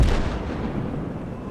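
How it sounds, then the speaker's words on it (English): Soviet artillery guns fire in the World War II strategy game Call to Arms, set in the defense of Leningrad in 1943: a loud, deep blast at the start trails into a rumbling, noisy decay that lasts over a second. "the Soviet guns are definitely causing some havoc"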